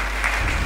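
Church congregation applauding loudly in a brief, dense burst of clapping, steady and close, filling the space during a sermon.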